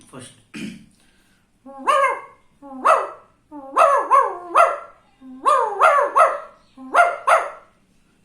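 A human voice mimics a newborn puppy crying, giving a close series of about nine short, high whimpering yelps, some in quick pairs, after a brief spoken word.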